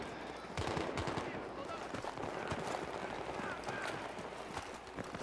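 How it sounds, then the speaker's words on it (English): Distant, rapid gunfire in a military video game, a steady stream of faint cracks and bursts repeating throughout, with voices talking quietly in the background. "Getting a lot of fire from Delta"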